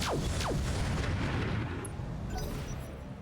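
Mech firing hyper weapons in Battletech, a burst of loud booming blasts with quick descending whooshes, then a rumbling decay that fades out.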